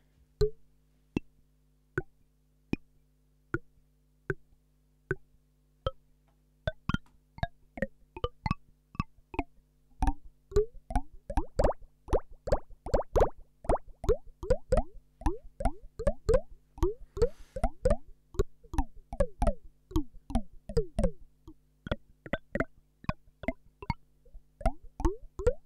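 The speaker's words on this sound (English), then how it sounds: "So yeah, you can create all of sort of, you know, percussion sounds," Percussive clicks and liquid, plopping hits from a no-input mixer feedback setup, starting as sparse evenly spaced ticks and building into a dense, rapid, watery rhythmic pattern, then thinning out again, with no voice.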